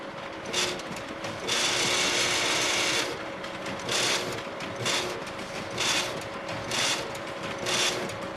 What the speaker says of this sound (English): Start the printer up again.